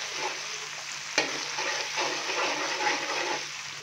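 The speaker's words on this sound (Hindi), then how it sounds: "अदरक लहसुन का पेस्ट डालने के बाद हल्का सा इसको मिक्स करेंगे" Ginger garlic paste stirred and fried in a pan while cooking white beef pulao: a steady, close sizzle with scraping stir strokes and one sharp clink near the start, no voices.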